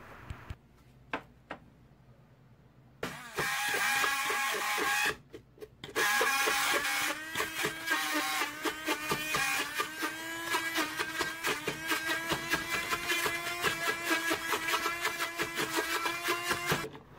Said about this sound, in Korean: 곱게 갈아 주겠습니다.